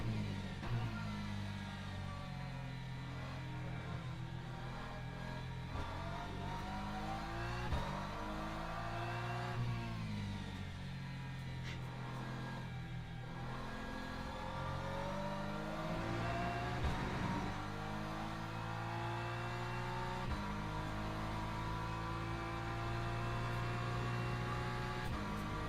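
LMGT3 race cars, including McLarens, a Corvette, a Lexus and a BMW, race at Fuji, their engines droning and revving with rising and falling pitch sweeps, a steady distant roar that layers several cars over the whole stretch.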